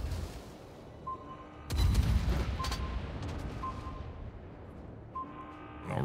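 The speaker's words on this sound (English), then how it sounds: "Torpedoes." Torpedoes strike in a naval combat game, a heavy booming impact with a long rumbling decay, followed by softer distant thuds and faint tonal beeps.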